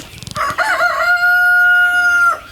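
Rooster in a poultry farm shed crowing once, a loud, sustained call that rises and holds steady, preceded by a few short clucks.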